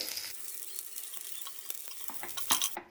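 Browned garlic and curry leaves sizzle in hot oil, a steady close crackling hiss with scattered pops and a brief louder spatter near the end.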